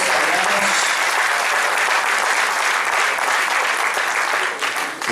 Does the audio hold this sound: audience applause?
yes